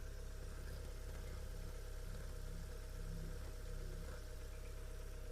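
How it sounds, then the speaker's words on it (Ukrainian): A 2009 Volkswagen Caddy 1.6 MPI engine idles steadily with a low, even hum and faint vibration, quiet and unchanging throughout. "Двигун працює ідеально, без всяких зауважень."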